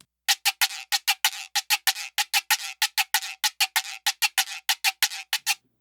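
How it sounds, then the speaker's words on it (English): Rhythmic raspy scrapes of a güiro, short and long strokes alternating in a steady dance pattern, close and solo. "I got the Güiro. That's the Güiro."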